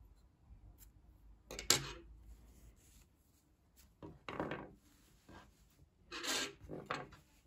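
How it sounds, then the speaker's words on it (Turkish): Scissors snip yarn from a crocheted baby cardigan, with a few short, quiet cutting and rasping sounds in otherwise near silence. "İpliği burada kesiyorum."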